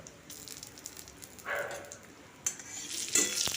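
Cumin seeds, whole garam masala, a bay leaf and two dried chillies crackle quietly in hot oil, with intermittent spoon scrapes and metal clinks against the pan and a louder sizzle burst toward the end.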